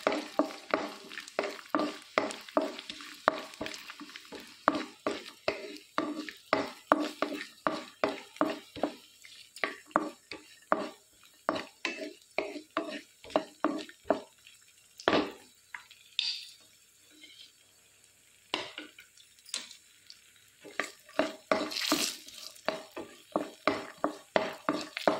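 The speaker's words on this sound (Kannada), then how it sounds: "ಯಾನು ಡ್ರೈ ಫ್ರೂಟ್ಸ್ಲ ಏಲಕ್ಕಿ ಪೂರ ಪಾಡೊಂದುಲ್ಲೆ ಇದೆಲ್ಲ ಒಂಚೂರು ಫ್ರೈ ಮನ್ಪುಗ" Dry fruits and cardamom frying in a pan for avalakki laddu, with a faint sizzle under a long run of sharp, rapid spatula scrapes and taps against the pan, steady at first and more scattered later.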